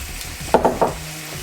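A whisk stirs homemade mac and cheese sauce in a pan, giving three quick scraping strokes close by over a faint steady background hum.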